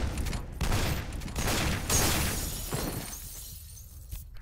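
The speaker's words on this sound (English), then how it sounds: "this gun hurts me when I shoot it up close" Gunfire in the F.E.A.R. shooter game, a loud burst of rapid close shots mixed with shattering and breaking debris that trails off into quieter rumble.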